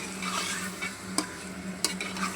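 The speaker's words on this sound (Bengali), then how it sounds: "এই যে এখন পেঁয়াজের সাথে আমি গোশটা ভাজা নিতেছি লবণ দিয়া।" Meat frying with onions and salt in a pot for chicken biryani, a close steady sizzle with a couple of sharp utensil knocks against the pot while it is stirred, no talk.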